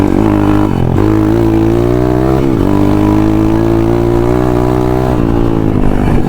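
A dirt bike's newly fitted engine drones steadily and loudly while ridden on an enduro trail, its rich humming note dipping briefly a few times as the throttle eases and then picks back up.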